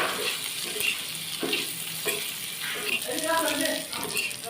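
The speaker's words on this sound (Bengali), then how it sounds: "এই যে আমার কাঁচামরিচ, রসুন আর আদা সুন্দর করে লাল লাল করে ভাজা হয়ে গেছে" Green chili, garlic and ginger frying in a pan, with continuous sizzling and crackling plus occasional stirring scrapes, close and clear, sometimes under a voice.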